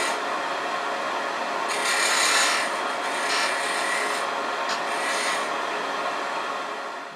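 A parting tool cutting a tenon on a wood lathe, a continuous close rasping scrape with slight swells in intensity as it makes several passes, steady throughout and tapering off at the end.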